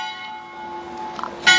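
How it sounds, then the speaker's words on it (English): Church bells ring in Agira, a steady sustained peal with bright overtones that swells into a louder, fuller strike near the end, heard alone at moderate distance. "Oh, bells again for us."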